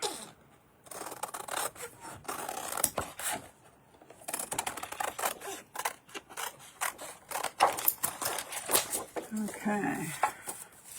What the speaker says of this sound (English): I'm just going to cut this